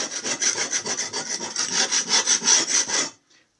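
A file rasps in steady back-and-forth strokes across a Flymo hover mower blade, about a dozen close, even scrapes in a regular rhythm before stopping abruptly.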